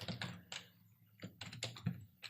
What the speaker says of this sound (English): now it's just a matter of typing in To Our Stakeholders, like we saw before.